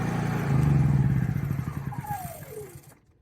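A Honda EU3000is inverter generator engine runs with a steady, close, throbbing hum, then winds down and cuts out, leaving silence after about three seconds.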